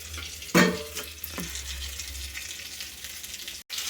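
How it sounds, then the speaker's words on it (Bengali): Potatoes frying in a pan with whole garam masala, cardamom and ginger make a steady sizzle, opening with a loud splattering burst, then settling into softer crackles with a brief scrape of stirring and a short cut near the end. "তারপরে আমি আলুগুলো ভেজে নিচ্ছি"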